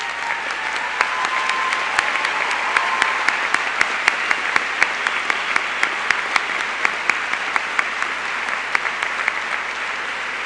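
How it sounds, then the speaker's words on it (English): Audience applause fills a graduation ceremony crowd, sustained and dense clapping that stays steady throughout with no voices over it. "Therese, please stand so we can applaud your great courage and generous spirit."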